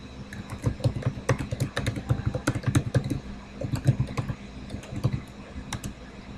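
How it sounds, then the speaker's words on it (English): Fast, irregular clicking of keys on a computer keyboard, close and clear, with bursts of rapid keystrokes and short pauses and no talking. "I'm typing it in."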